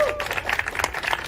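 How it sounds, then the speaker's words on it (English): A conference audience at a tech event in New Delhi claps in a brief, dense burst of applause, with a little crowd noise and voices mixed in. "let's give him a round of applause"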